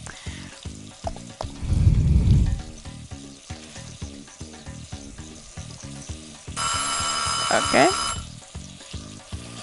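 Meat cooking on a stove in the video game Overcooked: a rhythmic, pulsing sizzle loop runs under a short spoken word, with a burst of low rumble early on and a bright ringing chime near the end.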